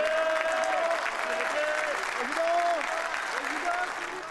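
Applause as Nicolas Sarkozy and Carla Bruni are seen off from the presidential palace at an inauguration: sustained crowd clapping throughout, with a voice speaking over it.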